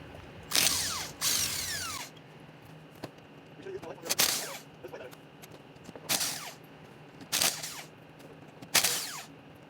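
Battery-powered Ugga Dugga impact wrench firing in several short, loud ratcheting bursts separated by pauses, close to the microphone outdoors.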